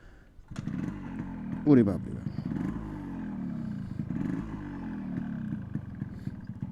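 A 1980s–90s two-stroke motorcycle engine starts with a sharp burst, then idles with repeated throttle blips in uneven surges, close by, while someone talks over it.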